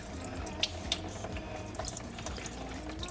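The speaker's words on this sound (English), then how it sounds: "we don't need to watch more of the coolant coming out" Engine coolant drains from a car radiator in a Honda EK hatchback, a faint, steady trickle and splash of liquid with a few small drips and clinks.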